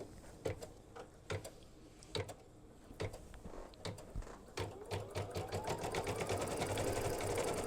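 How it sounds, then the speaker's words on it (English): An embroidery sewing machine stitches a small red heart through fabric and organza in red thread, its needle first tapping in slow, spaced bursts and then building into a steady, fast mechanical run. "use red thread in the needle to stitch the heart"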